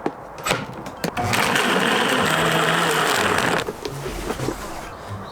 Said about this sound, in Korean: 얼음을 넣은 상태로 같이 한번 갈아 보도록 하겠습니다